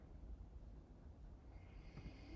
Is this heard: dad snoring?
yes